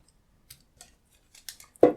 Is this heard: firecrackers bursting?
no